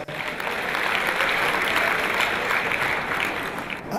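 Audience clapping at a live stand-up comedy show. The crowd gives a dense, sustained round of applause that swells and holds at a steady level, then drops away sharply at the end.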